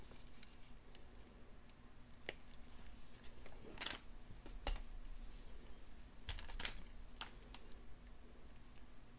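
Small wire cutters snipping jewelry wire for a beaded necklace, quiet close clicks and a few sharp snips scattered over a faint room hum, with no speech.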